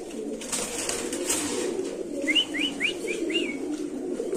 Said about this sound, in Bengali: আমরা একটু সামনে ডাকটা দেখাবো আপনাদের